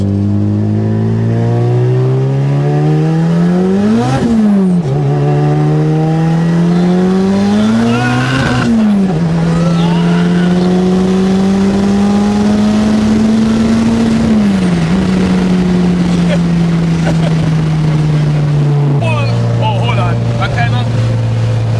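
Engine revs climb repeatedly as a Toyota Tercel with a turbocharged 20-valve 4AGE engine accelerates hard through gear changes, with a loud droning exhaust note close by and a final pitch drop.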